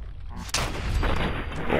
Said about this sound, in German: irgendwer schießt da ganz fies auf mich die ganze Zeit